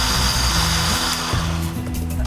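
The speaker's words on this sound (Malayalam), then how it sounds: "എപ്പോഴും ഈ മിക്സി ഇങ്ങനെ ഓൺ ചെയ്യുമ്പോൾ ഒന്ന് ഒരു ചെറിയൊരു പിന്നോട്ടൊന്നിങ്ങനെ മാറും" A kitchen mixer grinder (mixie) runs steadily with a loud, continuous motor whir and a brief dip midway, no voices over it.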